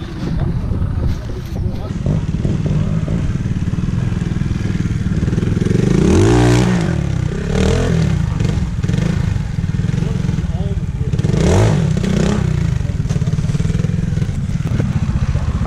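A motorcycle engine loud and close at a trial event on icy ground, idling and then revving hard in two rising surges, with people talking and wind buffeting throughout.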